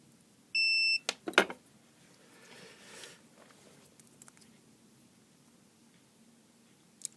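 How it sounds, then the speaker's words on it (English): A multimeter's continuity beeper in an SG-595 coin hopper wiring check gives one short, steady electronic beep, clear against quiet room noise, followed by a few faint handling clicks. "continuity beeper."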